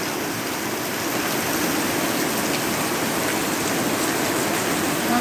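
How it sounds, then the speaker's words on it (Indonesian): Heavy rain pours down in a steady, dense hiss with no letup, a continuous broadband downpour outdoors where parked motorbikes are getting soaked. "Hujan mulai turun dengan derasnya."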